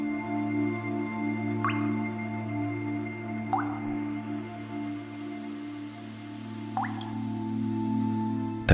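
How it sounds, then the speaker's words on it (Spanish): Slow, thick drops fall one at a time from somewhere inside, three distinct viscous drips spaced a couple of seconds apart over a low steady hum. "No se oía el más mínimo sonido dentro, excepto una especie de goteo parsimonioso"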